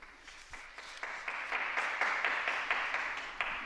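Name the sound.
applause of the faithful for the new Blessed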